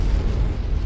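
A mech explodes in the MechWarrior 5 video game, a short, heavy, low rumbling blast that fills the whole moment.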